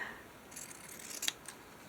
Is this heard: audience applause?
no